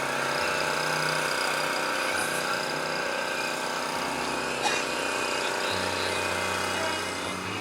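At an outdoor car show in Federal Way, Washington, a car idles through its aftermarket exhaust with a steady, close, even rumble and a slight hum.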